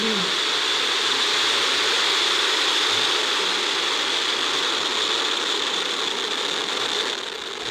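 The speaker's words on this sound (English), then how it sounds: "Ignition and liftoff." A SpaceX rocket launches on 28 April 2021, its engines giving a steady, loud, broadband roar like rushing water that holds unbroken throughout, easing slightly only at the very end.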